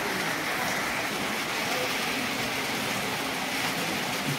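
Steady rain falls over a nearly empty market, a constant broadband hiss that stays even and unbroken throughout, close and moderately loud with no voices.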